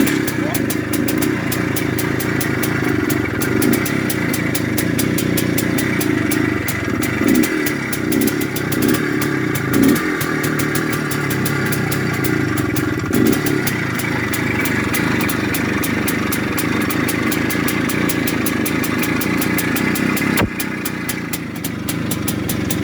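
An IZh Planeta Sport motorcycle engine under restoration starts and settles into a steady, loud two-stroke idle with a clattering beat, running continuously close by.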